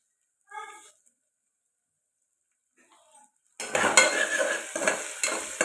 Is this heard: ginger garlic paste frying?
yes